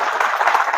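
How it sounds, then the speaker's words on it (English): Brief audience applause at an AI for Good meetup, a short burst of steady clapping from the room. "Let's give them a huge round of applause"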